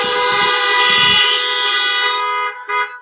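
A car horn blares in a long, loud, steady honk at a street gathering, cutting off briefly near the end before a short second toot.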